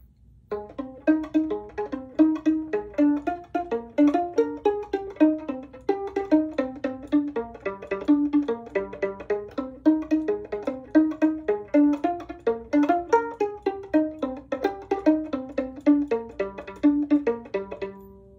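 Plucked violin strings played pizzicato in a lively, bouncy melody, short detached notes following one another steadily with no voices.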